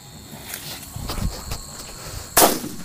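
A Diwali bullet bomb firecracker goes off in one sharp, loud blast near the end, after a stretch of faint crackling and rustling outdoors.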